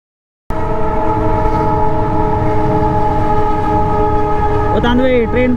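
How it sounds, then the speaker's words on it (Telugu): A train near Siliguri on the Darjeeling line rumbles past close by after a sudden start, loud and steady with strong tonal hum throughout, and a horn-like sliding tone near the end. "ట్రైన్ పోతుంది."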